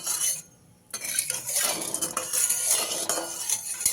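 Mustard oil is spread and stirred around a metal wok with salt for a Bengali pabda fish curry: a close, continuous scraping and clinking of utensil on pan, with a brief lull near the start.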